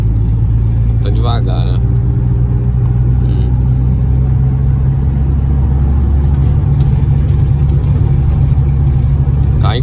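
Engine noise from a Volkswagen Gol 1.6 AP is heard from inside while driving in fifth gear as another car passes, a loud steady rumble with a brief voice over it.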